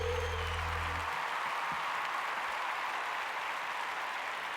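A crowd at the Tremplin des Elysiks 2018 band contest applauds a band: dense, sustained clapping and cheering fills the room, with a final low held note ringing out underneath in the first second.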